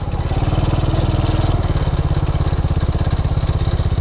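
A TaoTao ATA 135D ATV engine runs steadily up close, its loud, fast, even low putter holding through without a break.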